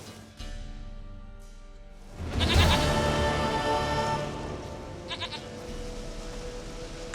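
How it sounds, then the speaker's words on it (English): A goat in The Witcher 3 lets out a loud, wavering bleat, preceded and followed by quieter ambient sounds. "Goat of mine, dearest,"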